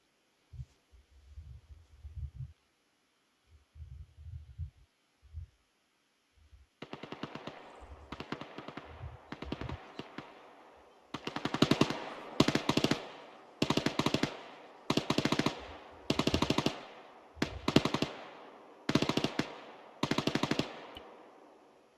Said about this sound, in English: What are you guys firing at?